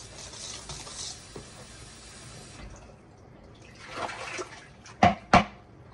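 Homemade microwave hot cocoa is stirred in a plastic bowl, giving soft liquid swishing and scraping, then a few sharper clinks and knocks near the end.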